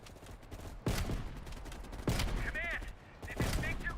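Three heavy, separate rifle shots crack out in the shooter game Call of Duty: Black Ops Cold War, each followed by a rolling echo, with faint bolt-action mechanical clicks and muffled voices between them.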